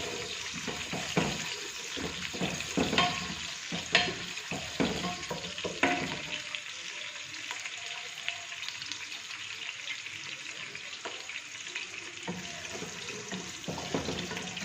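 Green chillies fry in hot oil for chicken handi, crackling and sizzling with clattering stirs early on, then a steadier, softer hiss.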